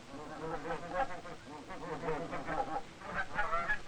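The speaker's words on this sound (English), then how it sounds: "his wife feeds the ducks and the chickens" Ducks and chickens on a farm in a German village honk, quack and cluck together in a noisy cluster, a continuous chorus of bird calls nearby.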